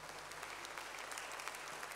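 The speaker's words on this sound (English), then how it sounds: "Would you give God a great hand clap of praise?" Congregation in a church service clapping in praise after worship singing, a dense, steady wash of hand claps holding evenly throughout.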